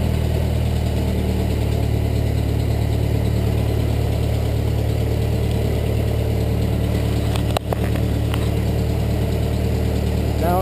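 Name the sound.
1922 Ford Model T engine running on magneto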